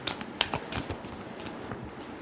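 Tarot cards are shuffled by hand in a final shuffle, close up, with crisp flicking and riffling bursts and a few sharper snaps over roughly two seconds, no talk.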